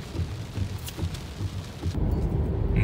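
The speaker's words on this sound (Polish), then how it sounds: "Ale, chmura się urwała." A heavy cloudburst downpour hisses steadily and roars louder in its final second, with low rumbling beneath the dense rain.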